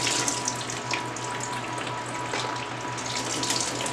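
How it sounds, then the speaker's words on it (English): Water mixed with MSU fertilizer and calcium nitrate pours steadily onto mini orchids in an orchidarium, a close, continuous splashing soak with no talking. "this time it's just going to get a nice soaking with some MSU fertilizer mixed up at about 63 parts per million"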